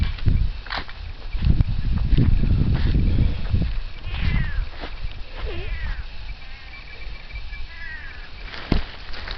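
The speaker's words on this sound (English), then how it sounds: "Gotta be the most pitiful meow you've ever heard." Faint, drawn-out pitiful meows from a cat outdoors in a berry garden in western New York, a few thin cries over low rustling and footsteps.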